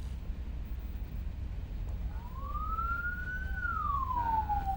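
An ambulance siren of the kind sounded while carrying the deceased rises as a single long tone, swells and falls away over steady traffic rumble, heard from a moderate distance with no voices.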